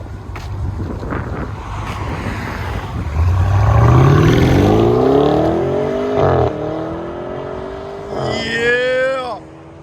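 A 2019 BMW M550i with a 4.4-litre V8 and resonator-deleted dual exhaust climbs through a loud, rising rev, then eases off and revs again, with wind buffeting the microphone throughout and brief voices near the end.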